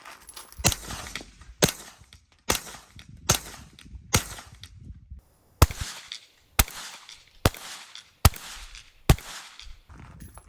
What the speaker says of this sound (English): that's a suppressed 9mm supersonic